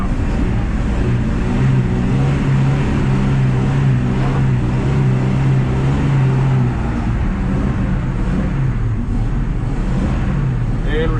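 A 1968 Ford F100 pickup engine revs hard during a clutch kick, a loud steady low roar throughout with wind buffeting and muffled voices underneath.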